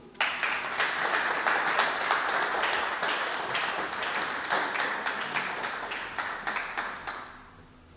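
A church congregation claps together in a fast, sustained burst of applause that fills the room, then thins and fades out near the end, with no voices over it.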